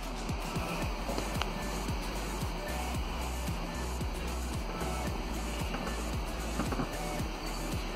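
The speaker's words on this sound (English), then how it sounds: "It should release the handbrake. It should make a noise around the back." A 2011 Toyota Avensis electric parking brake releasing at the rear during a brake pad job, giving a steady mechanical motor whir with evenly repeating ticks and knocks throughout.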